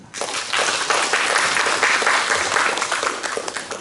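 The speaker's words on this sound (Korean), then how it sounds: "박수 부탁드립니다." Audience at a Seoul National University Buddhist student society 60th anniversary symposium applauding a presenter, a dense sustained burst of clapping from a crowd throughout.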